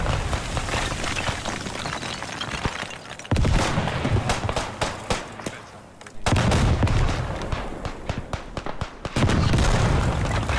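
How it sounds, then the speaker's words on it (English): A Chauchat machine gun fires in the World War I shooter Beyond The Wire, loud rattling bursts mixed with booming artillery and scattered gunfire in a chaotic battle soundscape. "there's a Shosha firing."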